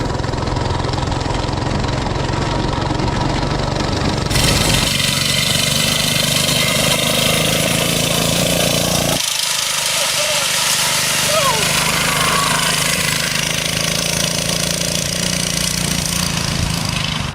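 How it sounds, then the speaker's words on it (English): A 98cc engine on a bolt-together go-kart runs steadily throughout, a loud continuous mid-pitched drone that shifts in tone twice as the throttle changes, close to the microphone with wind rumble. "first riding impressions on the bolt-together go-kart with the 98cc engine"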